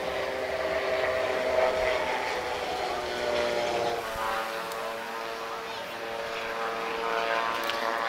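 A propeller airplane with an open cockpit flies past at the Oeiras Air Show, a steady droning engine roar held loud and close for the whole stretch, with a faint voice underneath.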